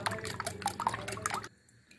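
Close, rapid whisking of a dough mixture in a bowl for a soft breakfast bun, quick clinking strokes for about a second and a half before stopping into near silence.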